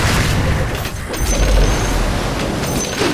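A bomb explosion in the game Dota 2: a loud, rumbling boom with heavy low-end roar sustained over a few seconds amid game noise.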